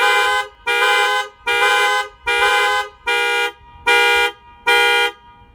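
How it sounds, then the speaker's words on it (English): A car alarm triggered from a key fob blares in seven evenly spaced, loud horn honks with short silent gaps, close and unaccompanied by talk. "How can we use these car alarms to begin stacking advantages as part of a home defense plan?"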